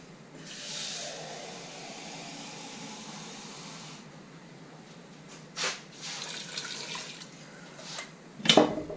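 Water is poured into a cooking pot of couscous, a soft hissing splash that runs for several seconds, followed by fainter intermittent pours and a louder clatter at the end.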